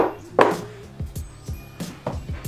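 A knife chops a serrano chili on a cutting board in a home kitchen with a series of sharp, close knocks. The strokes fall at an uneven, quickening rhythm, and no one speaks.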